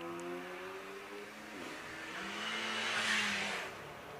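An Audi S3 race car accelerates up the Shelsley Walsh hill climb, its engine note rising and swelling steadily over a few seconds, moderately loud with no talk.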